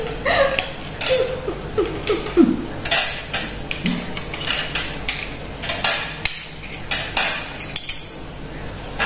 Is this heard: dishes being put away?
yes